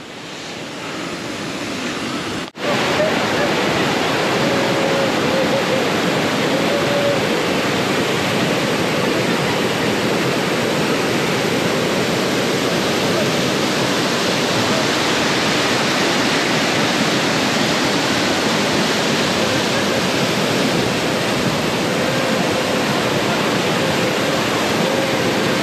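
The waterfall at Bhaja Caves roars as a loud, continuous wash of rushing water that fills the whole scene with dense, unbroken noise and no voices.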